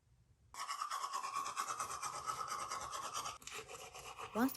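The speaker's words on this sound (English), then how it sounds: "Once I'm done brushing my teeth," Close, steady scrubbing of a toothbrush against teeth during a self-care hygiene routine, a continuous rough brushing that starts after a short silence and runs for about four seconds with a small change in stroke near the end.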